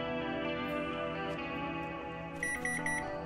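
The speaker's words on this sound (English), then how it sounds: "Now the crime watch beeps again." Crime watch device beeping in the video game Appointment With FEAR: a short run of four quick, bright electronic beeps near the end, over sustained musical tones.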